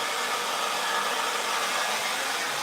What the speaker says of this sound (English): I'll just go over with the hairdryer now, dry this side.